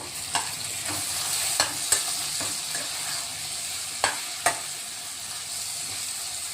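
Fresh coriander dropped into a hot oil tempering for poha, a steady sizzling hiss with a few sharp clinks of a spoon against the pan.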